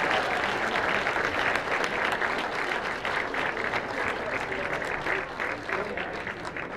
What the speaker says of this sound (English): One more round of applause for Mark.